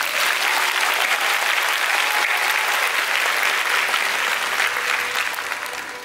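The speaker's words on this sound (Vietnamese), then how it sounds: "hãy dành một tràng pháo tay thật lớn để tự khen thưởng cho sự cố gắng của" A graduation ceremony crowd at Hoa Sen University claps loudly and continuously, a thick, even wash of many hands that holds strong for several seconds before easing slightly at the end.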